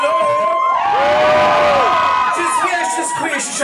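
Drag show audience at a Newcastle gay bar screaming, whooping and shouting together in a loud, sustained crowd roar, with high voices rising and falling over about three seconds.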